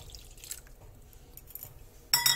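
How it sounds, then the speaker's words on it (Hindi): A little water is poured into ground spices such as cumin and coriander powder in a kitchen, with soft close trickles and small clinks, then a brief louder splash at the end. "सो मसाले के अंदर मैं डाल दूंगी थोड़ा सा पानी"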